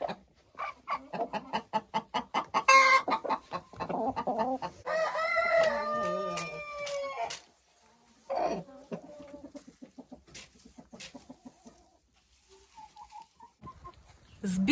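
A laying hen in the nest clucks in a series of rhythmic, close calls, with a longer drawn-out cackle and quieter clucks between pauses.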